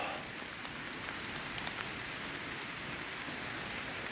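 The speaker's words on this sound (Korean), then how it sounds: "아, 진짜 비가 들이붓는데요?" Heavy rain pours down steadily outdoors on a mountain hike, a dense, even hiss of drops that stays constant throughout with no voices.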